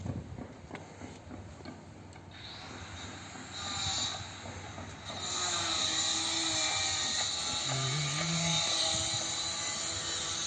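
A train runs along the first track at Makthal junction, a steady, loud rumbling roar that swells midway and carries on with faint wheel squeal.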